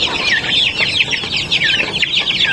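Native chickens clucking on a farm, a dense overlapping flock of hens and rooster calls running steadily throughout, close and loud with no talking.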